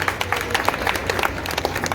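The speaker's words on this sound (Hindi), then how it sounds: "ताली बजा दे बिटिया के लिए" A district-level tourism quiz prize ceremony in Seoni, Madhya Pradesh: an audience bursts into dense, steady applause for a girl receiving her award, with many overlapping claps filling the room for the whole stretch.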